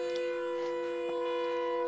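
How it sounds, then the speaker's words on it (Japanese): A siren wails from one side in a horror video game, a steady droning tone with a faint rising and falling wail, continuous and moderately distant, with no talking. "右側からめっちゃサイレンの音聞こえる"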